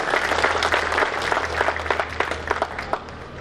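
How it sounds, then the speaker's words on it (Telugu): Audience applause at the Jarpula Radhakrishna Memorial Charitable Trust fourth anniversary event in Kadthal, greeting the trust chairman: steady, dense clapping from a crowd, moderately loud with a low steady hum beneath, lasting throughout. "మీ ప్రేమ భావాన్ని చప్పట్ల ద్వారా వారికి తెలియజేయాల్సిందిగా మనవి చేసుకుంటున్నాం"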